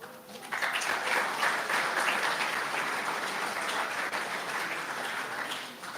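Steady crowd applause fills a room at a campaign book event, building quickly and holding at a fairly even level before tapering slightly toward the end.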